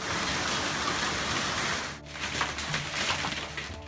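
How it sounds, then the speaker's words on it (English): Hailstorm pounding a West Side home in Tucson during monsoon season, a dense, loud hiss and clatter of hailstones that briefly dips before resuming with sharper scattered impacts. "Take a look at this hailstorm taken at a West Side home."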